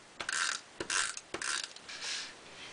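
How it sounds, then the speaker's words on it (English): A snail tape runner rolls adhesive onto the scored flaps of a paper craft box, giving three short clicking, ratcheting bursts in a quick rhythm, followed by a softer smear, close and fairly quiet with no talking. "So you're just going to apply your adhesive on your 1 inch score line flaps"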